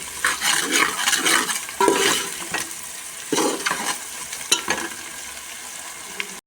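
Chopped onion, dried coconut, cloves, cinnamon and garlic roast in a pan for misal, a close crackling sizzle broken by rhythmic scraping strokes of a spoon; no voices.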